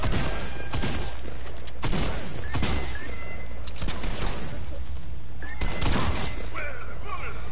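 Bursts of video game gunfire crack out repeatedly in rapid volleys, loud and close, with a player talking between shots.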